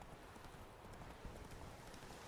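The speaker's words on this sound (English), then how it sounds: "I can always call your horse Roach at any time as well" In The Witcher 3, the horse Roach gallops with rapid rhythmic hoofbeats, fairly faint beneath game ambience.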